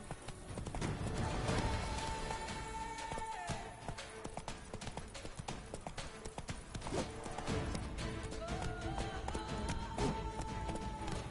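Roach, Geralt's horse in The Witcher 3: Wild Hunt, gallops with steady, rapid clip-clop hoofbeats that run continuously and fairly loud, with a brief whinny-like tone and game ambience beneath.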